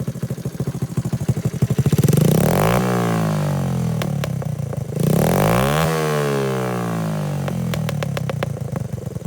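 A 1987 Honda TRX70 ATV with an 88cc big bore kit idles with a rapid popping putter, then revs sharply twice, each rise climbing to a loud buzzing wail before dropping back to a clattery idle.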